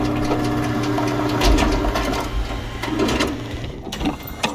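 Machine in the sci-fi horror game Soma loading an assembled bullet, a steady mechanical whirring and rattling hum with a low rumble that swells midway, heard alone.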